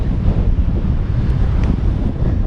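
Strong wind buffets the microphone in a continuous, loud roar with gusty swells, heard outdoors on a remote Scottish island during a mountain bike ride.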